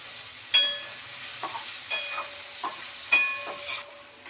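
Paneer frying in a hot pan, a steady close sizzle broken by several sharp stirring clatters as pieces are turned over.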